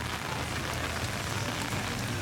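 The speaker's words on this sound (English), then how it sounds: "And it's still raining." Rain pours steadily at Animal Kingdom theme park, a broad even wash of hiss and patter that is loud and unbroken with no talking.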